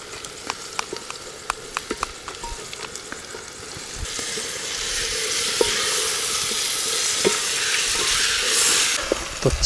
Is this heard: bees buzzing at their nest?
no